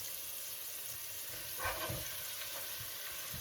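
Osso buco sizzling in a pan with leeks and celery, a steady close frying hiss with a brief louder burst as the meat goes in.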